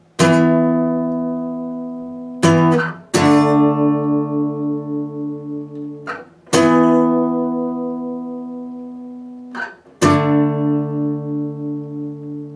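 An electric guitar plays a song's bridge at full tempo, sustained power chords struck in clean separate hits with slight pulsing as each rings out, close and alone.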